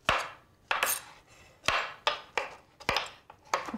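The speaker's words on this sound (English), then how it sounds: "what we'll do first with these cremini mushrooms, that's these, we're gonna cut these into slices" A knife slices cremini mushrooms on a cutting board, giving about ten crisp, close thuds at an uneven, unhurried pace with short quiet gaps between cuts.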